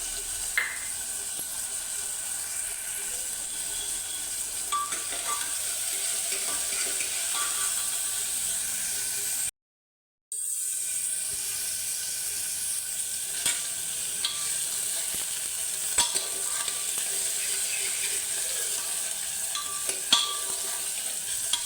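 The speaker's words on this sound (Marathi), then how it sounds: "असं व्यवस्थित परतवून घ्यायचं सगळं कांदा टमॅटो आणि त्याच्यामध्ये टाकायचा हा कोल्हापुरी मसाला हळद आणि मीठ" Tomatoes and onion are sautéed with Kolhapuri masala, turmeric and salt in a pan, a steady close sizzle with repeated scraping stir clicks, broken by one short silent gap partway through.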